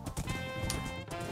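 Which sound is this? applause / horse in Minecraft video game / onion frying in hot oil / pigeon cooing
horse in Minecraft video game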